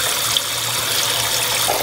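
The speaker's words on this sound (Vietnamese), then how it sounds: "Xả nước vô, lấy nước nóng để luộc gà cũng như hầm gà lấy nước." Tap water gushes steadily into a cooking pot being filled to boil chicken, a close, continuous rushing stream lasting a couple of seconds with no speech.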